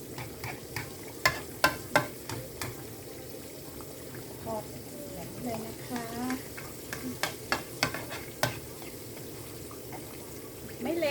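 Fermented fish (pla som) frying in hot oil, a steady sizzle broken by sharp pops and spatters with occasional stirring clinks, close and moderately loud, someone talking intermittently over it.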